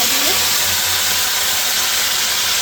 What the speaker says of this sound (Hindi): इसमें हम टमाटर डालेंगे